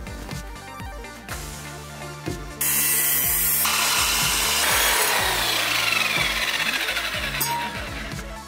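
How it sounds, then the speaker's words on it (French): A stainless steel exhaust tube on a C25 Turbo 4x4 rally car is cut at an angle by a power tool, a loud harsh grinding and rasping that builds into a sustained shriek, with rhythmic engine-like pulsing underneath. "Maintenant, il ne reste plus qu'à faire la découpe du tube en biseau"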